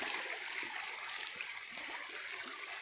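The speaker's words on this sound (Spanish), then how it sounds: "Miren cómo viene la corriente del río." A small river current flows steadily in a creek with pools full of tilapia, a continuous broad rushing and trickling wash that stays close and even throughout, with no voices.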